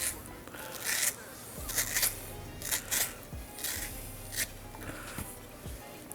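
A knife scores mango flesh on a cutting board in a kitchen for pico de gallo, giving a series of short, crisp cutting and scraping strokes at an uneven pace, fairly close and quiet, with no talk over them.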